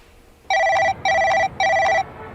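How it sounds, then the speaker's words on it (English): A telephone bell rings three times in an even, quick rhythm, each ring a loud bright trill that stands out alone over a faint room hum. "My phone is not my friend. It rings at all hours of the day and night."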